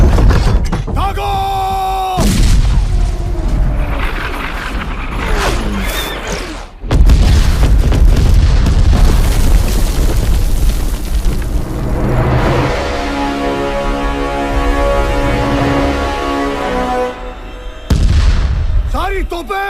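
Artillery cannon fire and heavy explosions in a Hindi war film battle scene, loud booms and crashing bursts recurring across the scene, with shouted voices and orchestral music underneath.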